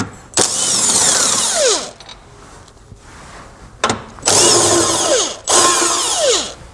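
Power tool spinning an 18mm socket to pull tow hook frame bolts on a 2019 Infiniti QX60, three loud close bursts of whirring and rattling with quiet gaps between them.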